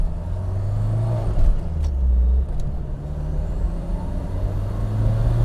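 A 1984 Ford Mustang GT Turbo convertible drives along with a steady, loud engine drone and road rumble heard from inside the cabin, while the pitch rises and falls slightly.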